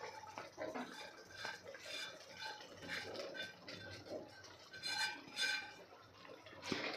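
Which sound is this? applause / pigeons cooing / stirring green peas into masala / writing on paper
stirring green peas into masala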